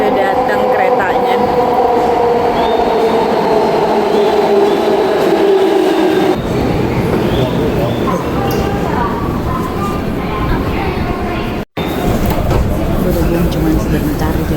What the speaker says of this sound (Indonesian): Udah datang keretanya.